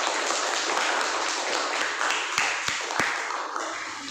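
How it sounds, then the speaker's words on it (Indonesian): Classroom applause for a student during a school teaching session, a busy wash of clapping from a group of pupils with a few sharper individual claps standing out near the end. "tepuk tangan buat teman kita yang sudah bisa menjawab kesimpulan kita hari ini"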